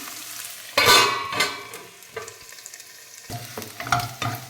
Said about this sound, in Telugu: ఆనియన్స్ బాగా వేగినాయి, రెడ్గా అయినాయి చూడండి